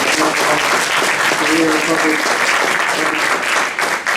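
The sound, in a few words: audience applause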